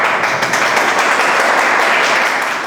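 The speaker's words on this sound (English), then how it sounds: "A big round of applause to everyone." Students and staff at a school applaud to welcome a speaker, a dense burst of clapping that holds steady and then begins to fade at the close.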